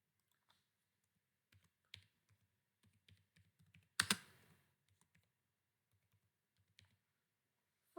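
Sparse, quiet keystrokes on a computer keyboard while writing in a Word document: scattered soft clicks with pauses and one louder clatter midway, close and alone.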